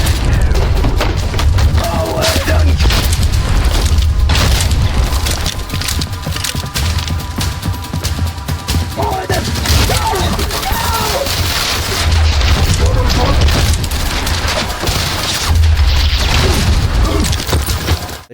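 Spaz 12 shotgun blasts in the shooter game Trepang2, loud repeated booming shots over a dense, steady wash of in-game combat noise and mechanical clatter, with no gaps of quiet.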